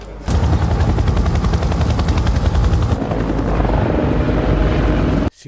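A helicopter carrying a patient to Moscow thunders close and loud with a fast, steady rotor chop, holding strong for about five seconds before cutting off abruptly.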